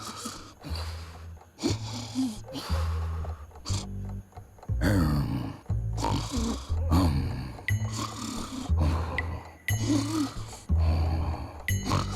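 A man snores loudly on his wedding night in a Hindi film scene, with harsh, roaring snores in repeated bursts broken by short pauses, close and dominant throughout.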